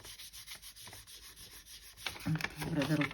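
A translucent polymer clay layer is burnished onto foil with steady close rubbing strokes, growing louder and busier toward the end as speech comes in over it.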